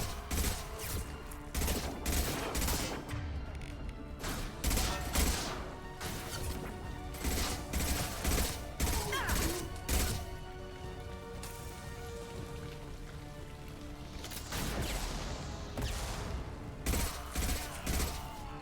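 Sustained exchanges of gunfire during a Mass Effect 2 firefight, dense rattling volleys repeating throughout with brief lulls, steady and moderately loud, no speech over them.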